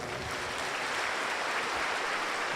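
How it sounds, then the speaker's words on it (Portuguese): Congregation applause during a Sunday Mass homily in a Portuguese-speaking church, a dense, even wash of many hands clapping steadily at moderate volume for the whole stretch, with no talk on top. "Uma salva de palmas para ela."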